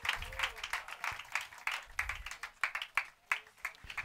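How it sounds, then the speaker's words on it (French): A church congregation applauds in scattered bursts of clapping, close and fairly loud, with a few voices mixed into the crowd noise. "Donnez-moi l'acclamation au Seigneur pour vous asseoir."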